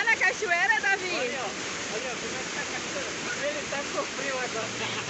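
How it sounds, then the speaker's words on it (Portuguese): Steady rushing water from the ASFRAMA waterfall along BR-174 roars evenly throughout, with a voice speaking over it at the start and scattered murmurs beneath the continuous wash. "Você quer entrar na cachoeira, Davi?"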